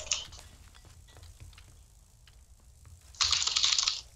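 Soft keyboard typing clicks along steadily, then swells into a louder, denser burst of keystrokes near the end, during online play of Tom Clancy's Rainbow Six Siege closed beta.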